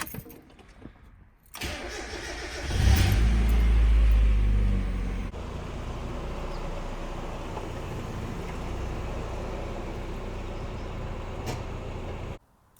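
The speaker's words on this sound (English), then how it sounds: "So I'm gonna go ahead and pull this out real quick, get it started." A Mazda Miata's engine cranks and fires with a loud low surge, then drops into a steady idle that continues nearby until it cuts off at the end, with no voices.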